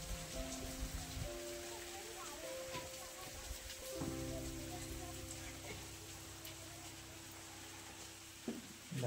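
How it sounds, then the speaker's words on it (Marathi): Monsoon rain falls steadily at Visapur Fort, a continuous close hiss of drops, with a low tonal hum running under it and no speech. "पाऊस काय थांबायचं नावच घेत नव्हता."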